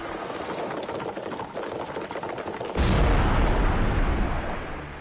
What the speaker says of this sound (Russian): Оглушительный взрыв.